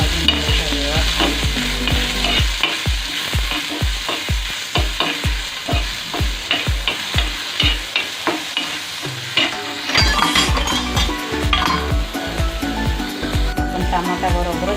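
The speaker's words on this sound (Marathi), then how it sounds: "टमाटा भाजून घ्यायचा व्यवस्थित।" Tomatoes fry in a pan, a constant loud sizzle close by, punctuated by fast, regular scraping strokes of a spoon that stir steadily for about ten seconds before becoming more scattered and clattery.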